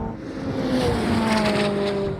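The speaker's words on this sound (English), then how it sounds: "there it goes, the 720S pulls away" A McLaren 720S accelerates hard in a drag race against a 675LT, a sustained engine roar with rising tones as it pulls away, moderately loud and steady with no voices.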